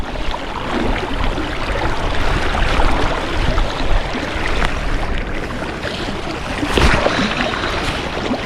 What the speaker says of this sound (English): That wind is causing major havoc today.